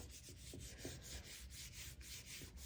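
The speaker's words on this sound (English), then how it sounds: "this time I'm going to make sure I rub really, really well" Steady rubbing of paper pressed hard over a Gelli Plate print with paper stencils, a continuous close scratchy friction with faint rhythmic strokes and no talking.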